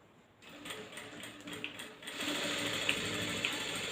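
A Jack F4 sewing machine stitches cloth in a rough run, starting after a brief pause as a quiet, steady mechanical whirr with a faint rapid needle rattle.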